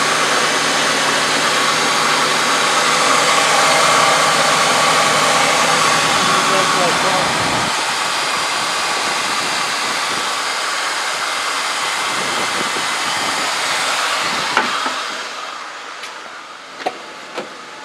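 A Ford Taurus 3.0 OHV Vulcan V6 runs after a spark plug and wire replacement, giving a steady, loud hum that holds for most of the stretch before easing off, with a few sharp clicks near the end.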